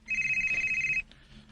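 A cellphone rings indoors at a boarding house with a steady, sustained electronic tone for about a second, then stops abruptly, leaving quiet room noise.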